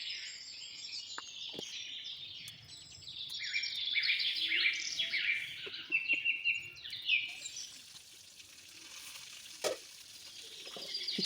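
Banana flower cooks in water in a covered pan, giving a close bubbling sizzle with occasional stirring clinks and a few soft ticks, while birds chirp faintly in the background.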